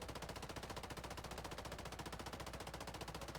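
A newly added gun in the Blood Strike video game fires a fast, steady automatic burst of evenly spaced shots, loud and continuous for the whole stretch with no talk.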